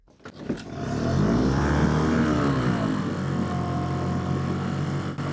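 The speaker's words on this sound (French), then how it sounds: "Le doux bruit d'un moteur à combustion." A boat's combustion engine catches after being primed and pulled, sputtering briefly before settling into a loud, steady close-up drone that runs on without a break.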